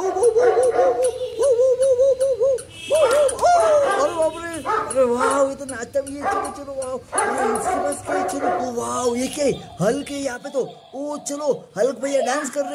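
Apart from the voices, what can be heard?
dog barking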